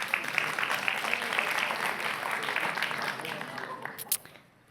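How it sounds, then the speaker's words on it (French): Audience applause at a school talk, a dense spread of clapping from many hands that holds steadily, then thins out and fades near the end. "bravo, vous pouvez l'applaudir"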